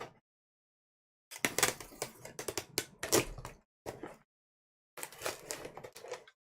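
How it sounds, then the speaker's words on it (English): Tape gun retaping a cardboard box for shipping: bursts of rasping, screeching tape pulls and crackling, loud and close, in three separate runs split by brief silences. "I am going to retape this box and I'm going to reuse it."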